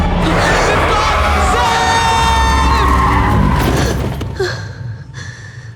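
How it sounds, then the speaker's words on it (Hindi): Tyres skid and a car crashes in a dramatic film scene: a loud, sustained screech with roaring engine noise and swelling music, then a sudden drop into quieter, ringing tones as the skid ends. "Simran stop the car, we're going to crash."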